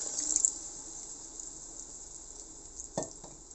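Food sizzles softly and steadily in a pan, with a brief splash and hiss as liquid goes in near the end.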